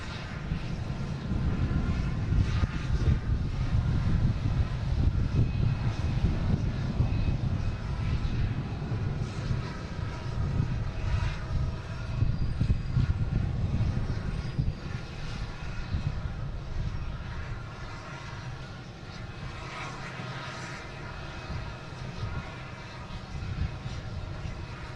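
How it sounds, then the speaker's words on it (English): Swiss Airlines jet taking off from Boston Logan airport: a broad, steady engine roar heard from a distance, rumbling and slowly fading over time with no talking. "And we have Wanderlust taking off, heading to Zurich."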